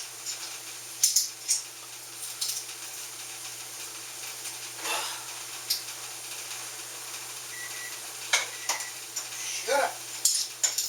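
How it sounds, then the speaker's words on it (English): Leeks, garlic and spices go into a sizzling pot of cabbage soup, a steady low frying hiss with spoon scrapes and clinks against the pot at irregular moments, close up. "We're adding the leeks, the garlic, and the spices."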